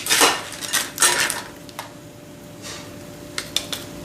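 Chunks of Dungeness crab tossed roughly with cornstarch in a large bowl, giving a few clattering scrapes and knocks against the bowl, loud at first and then sparser and fainter, with no talking.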